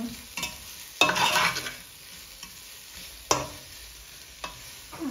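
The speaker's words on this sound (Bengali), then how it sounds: "পেঁয়াজটা বালা করে ভাজা হয়ে গেলে আমি চাউলটা দিলাম" Rice being stirred into fried onion and cumin for a Sylheti meat pilau, a steady pan sizzle broken by several sharp scraping stirs of the spoon, close up with no talking.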